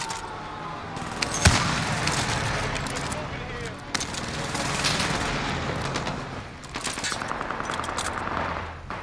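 PPSh submachine gun fire in a video game, with rapid automatic bursts and scattered gunshots running nearly continuously, loud and close, with other shots layered in.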